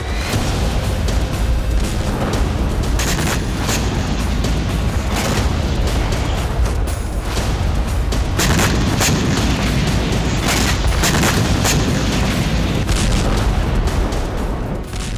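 Repeated heavy blasts and booming bursts crash over a constant low rumble, a loud, chaotic barrage of explosions on a battlefield in the Russia-Ukraine war.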